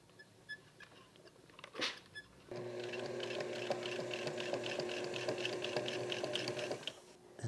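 A sewing machine runs steadily for about four seconds, stitching a zigzag seam on fabric corners for a pair of pants, its rapid mechanical whir close and even, preceded by a few quiet handling taps.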